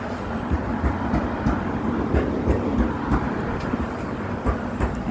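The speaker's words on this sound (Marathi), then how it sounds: "अजून एक ट्रेन" A train rolls past on a Moscow street, a steady, close rumble with faint clicking running through the whole stretch, no voices over it.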